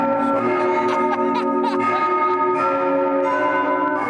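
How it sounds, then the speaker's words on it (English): Electronic bells chime steadily from the Liver Building clock tower, a dense layered peal of sustained tones ringing loudly throughout with no talking over them. "They may not be real bells, but you can certainly hear them all right."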